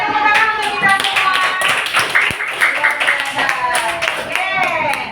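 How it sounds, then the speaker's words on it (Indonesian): An audience applauding together in a classroom presentation, with rapid scattered hand claps that continue steadily over several seconds, mixed with voices. "Tepuk tangan untuk kita semua."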